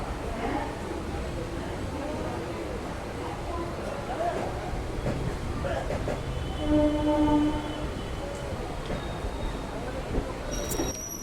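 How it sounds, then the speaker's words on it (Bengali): An old Dhanadhanya Express passenger train coming from Lalgola toward Kolkata rumbles past with a low rolling clatter, and its horn sounds in the middle for about a second, heard over the rail noise with people talking nearby. "এই ট্রেনটা লালগোলা থেকে আসছে এখন যাচ্ছে হচ্ছে কলকাতার দিকে"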